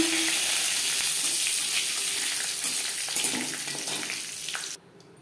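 Whole cumin and panch phoron spluttering in hot oil with broken dried chillies and curry leaves, a steady bright sizzle that runs unbroken for about five seconds, then cuts off abruptly near the end.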